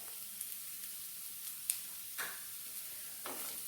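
Onion and chopped carrot sautéing in a pan for rava upma make a soft, steady sizzle, broken by a few brief scraping strokes of a spoon, close and quiet with no speech.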